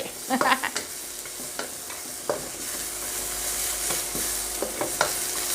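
Holy basil and salmon skin are stir-fried in a pan, giving a steady high sizzle punctuated by scraping spatula strokes and a few sharp clinks, close and fairly loud, with no talking.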